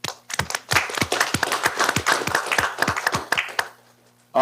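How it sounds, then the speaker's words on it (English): An audience at a school board meeting breaks into a round of applause for a newly introduced coordinator: sharp, distinct claps for about three and a half seconds, then a quick fade to silence. "Round of applause, please."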